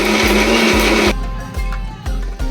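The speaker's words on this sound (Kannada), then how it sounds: "ಟೊಮೊಟೊ ಧನಿಯಾ ಪೌಡರ್ ಚಿಲ್ಲಿ ಪೌಡರ್ ಸಾಂಬಾರ್ ಸೊಪ್ಪು ಸ್ವಲ್ಪ ಪುದೀನ ಸೊಪ್ಪು ಸ್ವಲ್ಪ ನೀರನ್ನ ಹಾಕ್ಕೊಂಡು ಚೆನ್ನಾಗಿ ರುಬ್ಕೋಬೇಕು" Electric mixer grinder running on tomato, coriander powder, chili powder, sambar greens, mint and a little water for a boti sambar masala, a loud steady whir that cuts out, then pulsed in several short bursts.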